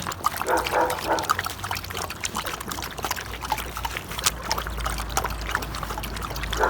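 Hungry puppies lap and drink water outdoors, soft wet trickling and slurping sounds close by with a low rumble underneath, no talking.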